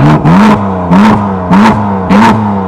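A stock-exhaust 2017 BMW M4 engine revs up four times in a steady rhythm, each sharp rise in pitch dropping back to a throaty idle, loud and close with no talking.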